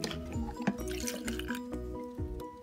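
Borax water is poured into a glue-and-water slime mixture, giving close, soft liquid drips and splashes in a steady trickle with a few distinct plops, and no voices.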